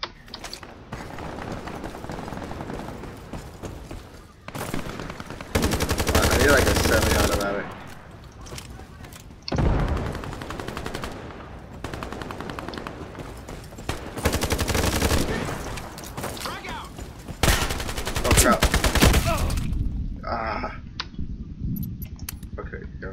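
Loud bursts of automatic gunfire in the multiplayer shooter game Ironsight, coming in several heavy sustained volleys with quieter gaps between them, while a player talks in between.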